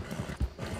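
Hooves of a horse galloping hard during an escape, rhythmic low thuds pounding in quick repeated beats, close and steady.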